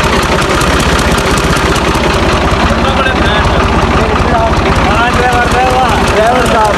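A tractor engine with a broken silencer runs loudly and continuously, a rough, throbbing drone that fills the whole stretch, with voices faintly audible underneath.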